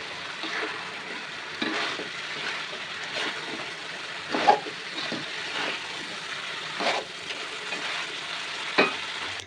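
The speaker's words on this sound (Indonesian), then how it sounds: "lalu tambahkan ikan goreng dan diaduk-aduk lagi hingga benar-benar tercampur rata." Fried fish being stirred with seasoning in a home kitchen pan: soft continuous sizzling with repeated scraping strokes of a spatula at irregular intervals, close up and with no talking.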